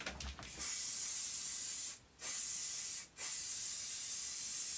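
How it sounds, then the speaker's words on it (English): A spray bottle mists water over a model French chateau in three long, steady hissing bursts, close and clear, with two short pauses between them and no talking. "Give it a really big spray so you can see it glistening with moisture now."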